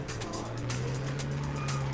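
A car engine in a racing video game as the throttle is pressed, giving a steady, loud, droning hum with faint tire noise over a constant low rumble.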